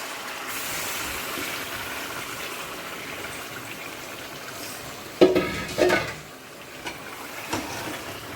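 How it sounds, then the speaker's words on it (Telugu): Marinated chicken dropped into hot oil for an easy chicken curry, a steady sizzle and hiss with a few scraping stir clatters near the end, close and moderate in level without talk. "నేను ఆయిల్ వేసుకున్నాను కదా, అందులో చికెన్ వేస్తున్నాను."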